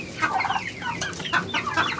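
Hens clucking on a poultry farm with mixed breeds including native golden chickens, a close run of short, repeated clucks in uneven bursts with no voices.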